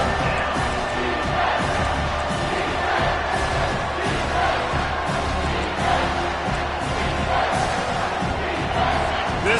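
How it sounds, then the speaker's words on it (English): Stadium crowd in a college football video game, TCU versus Florida State, roaring and cheering continuously in a dense, loud wall of noise with scattered shouts. "This crowd knows they have to bring it in big moments"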